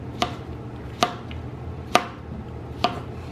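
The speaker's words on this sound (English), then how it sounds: "flip the zucchini sideways and cut into smaller slices" Knife chopping zucchini on a cutting board, four crisp, evenly spaced thuds close by with quiet gaps between, no talking.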